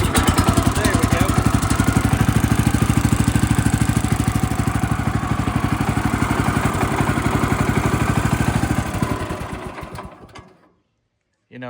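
Pull-start gas engine running for cutting white pine logs, a loud, close, rapid rhythmic putter for about ten seconds that sputters and dies, then falls silent.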